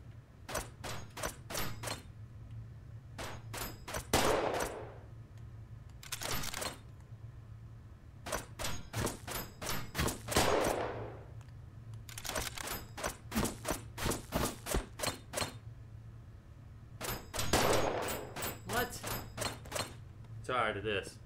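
Bolt-action sniper rifle shots in a video game, a run of sharp repeated gunfire bursts with louder booming reports at intervals, heard over a steady low hum and occasional talk.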